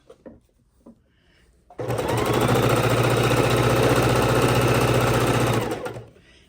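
A sewing machine stitches fabric for a bowl holder, starting after a few small handling clicks and running in one steady, loud, rapid mechanical hum for about four seconds before slowing to a stop.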